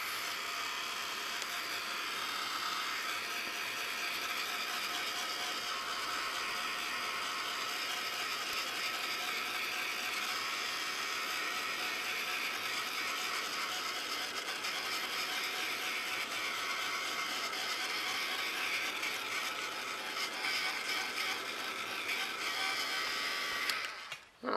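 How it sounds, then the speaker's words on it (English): A heat gun blows steadily as it dries wet paint on a jar for a mixed media shabby chic heart craft, giving an unbroken whooshing hum near the microphone that holds for about twenty-four seconds before cutting off. "Just take the heat gun"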